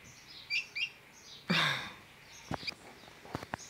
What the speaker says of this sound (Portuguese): E os pássaros ficam sempre ali,